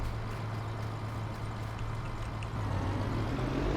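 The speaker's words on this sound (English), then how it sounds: "Let's use this tractor. We're in it." A tractor engine in Farming Simulator 19 drones steadily with a low, even rumble and constant loudness throughout, alone with no talk.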